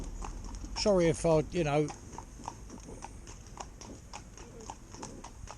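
A fell pony's hooves clip-clop intermittently during training as someone speaks briefly and then falls quiet. The steps sound close and fairly soft.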